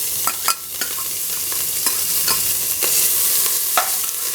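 Spices sizzle in hot ghee for khichdi, a steady loud frying hiss with repeated scraping stirs close by, no voices.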